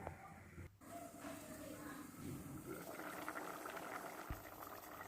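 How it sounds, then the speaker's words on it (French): Vegetable soup bubbling gently under a lid in a pot over medium heat, a steady soft simmer with low, even bubbling that continues throughout at moderate volume. "Je mets le couvercle et je laisse le tout cuire pendant environ une vingtaine de minutes."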